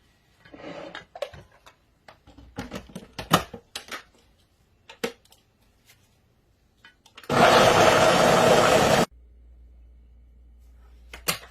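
Electric blender blitzing soaked beans into a smooth falafel paste, a loud steady whir that runs for about two seconds and then cuts off, after scattered clicks and handling knocks.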